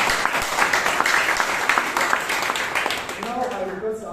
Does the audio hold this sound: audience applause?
yes